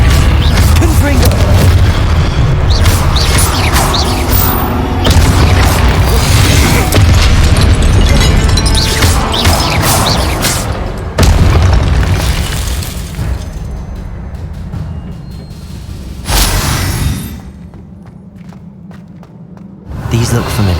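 Fiery Confringo spell blasts from the Hogwarts Legacy video game, a series of loud, heavy booms and bursts recurring through the clip alongside a voice.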